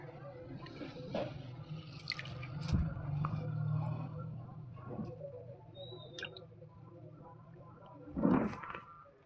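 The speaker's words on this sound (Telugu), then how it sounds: "కొంచెం ఎక్కువ వాటర్ పోసుకుంటే మంచిగా నీట్గా అవుతుంది" Water splashing and dripping as greens are swished and rinsed in a bowl, with soft squishing sounds and a louder splash near the end.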